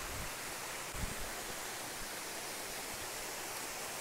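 Water from a cascade pours over natural stone steps in a rocky stream, a steady, broad rushing hiss heard close and unbroken with a few faint low thumps.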